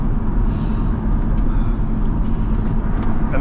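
A 2000 Chevrolet Corvette C5 engine rumbles steadily from inside the cabin while driving, with a constant low drone and road noise throughout.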